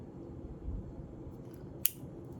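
A single quick snip of scissors cutting through a paper strip for a watercolor starfish craft, one sharp crisp cut midway over a low, steady room hum.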